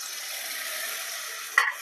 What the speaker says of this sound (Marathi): यामध्ये आपल्याला पाणी घालायचं आहे